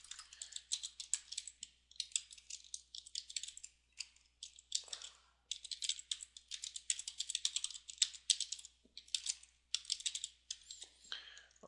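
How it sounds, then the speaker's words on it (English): Fast, steady typing on a computer keyboard while writing code, with bursts of light clicking keystrokes separated by brief pauses, close but quiet over a faint low hum. "Sorry, this is the boring part, but it's just a lot of typing."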